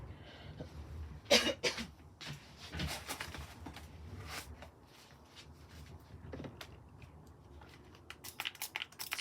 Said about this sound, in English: Sorry if you ever hear me coughing, I have an asthmatic cough